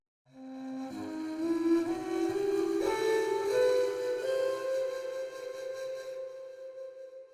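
A scale in the Lydian sharp 9 mode, a mode of harmonic minor, played as a rising run of sustained synth-like notes that swell in after a short silence and hold steadily before fading, heard alone.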